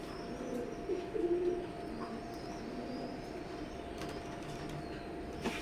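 Imported Teddy breeder pigeons, a male and a female, coo low and steadily in a fairly close, continuous murmur, with a brief louder burst early on and a faint background hum throughout.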